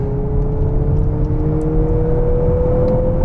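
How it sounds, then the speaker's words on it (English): A 2023 Mazda CX-50 Turbo with 256 horsepower accelerating hard on the road, heard from inside as a steady, rising engine drone with broad road and wind rumble, no talking. "driving the CX-50 Turbo. First thing I'm gonna do here is step on it."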